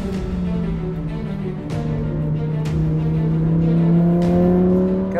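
A Lamborghini Huracan Performante drives a twisty European road, its engine note heard from inside as a loud, steady drone that dips briefly and then climbs gradually as the car accelerates through the bends, with occasional short clicks and no talk.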